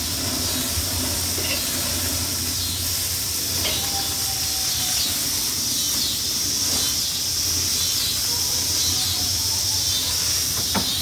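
Burgers and sausages sizzling on a smoky outdoor grill, a steady dense hiss with faint crackles and pops throughout, close and continuous.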